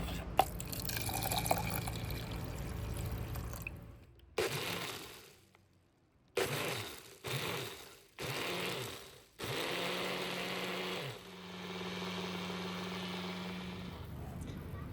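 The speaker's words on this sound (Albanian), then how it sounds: "do t'i vendosim në blender, do t'i shtojmë edhe një gotë ujë" Washed melon seeds whirring in a blender with a glass of water, with loud grinding bursts that stop and start several times before settling into a steady run.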